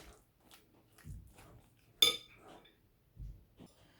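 Soft clinks and scrapes of utensils mixing chicken pieces with salt and pepper in a bowl, sparse and close, with one sharper knock partway through.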